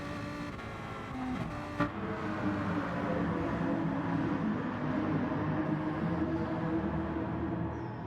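A close pack of GR3 race cars in a video game league race at the Catalunya circuit goes by, with a continuous layered engine drone that holds steady across the stretch as the train of cars passes.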